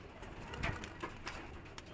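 High flyer pigeons cooing, soft low coos repeating a few times under a faint background hum.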